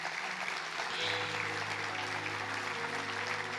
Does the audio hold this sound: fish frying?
no